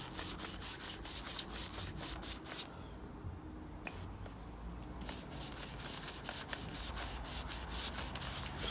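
Transmission fluid brushed onto wood in a garage, heard as a steady, quiet, rhythmic rubbing of bristles across the surface, continuous strokes close by with no talking.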